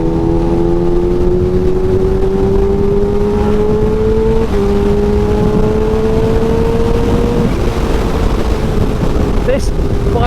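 Kawasaki Ninja H2 motorcycle on a test ride, its engine loud and constant as it holds steady tones that step up through shifts, with wind rush throughout.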